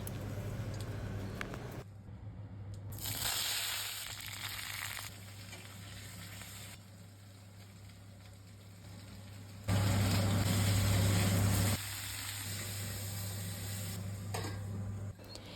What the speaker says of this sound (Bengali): তারপরে মাছ ভাজার তেলে একটু কালো জিরের ফোড়ন দিলাম